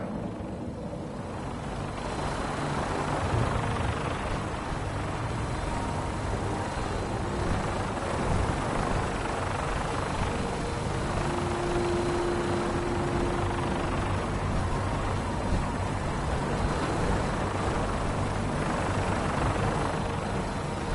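A Fallout 4 vertibird gunship engine drones steadily for the whole stretch, a dense, low rotor-and-turbine roar with a faint whine riding on top, constant and fairly loud without pause.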